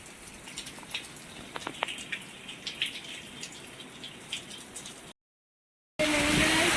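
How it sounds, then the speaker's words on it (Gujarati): Monsoon rain falls on a waterlogged farm field in a steady patter with scattered distinct drips, then breaks off into a brief silence before a much louder, dense rush of water. "વરસાદ આવે બહુ"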